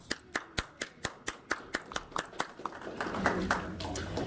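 A single person claps evenly about twice a second at a meeting, crisp and close, then the rhythm loosens and murmuring voices and wider clapping swell in the background.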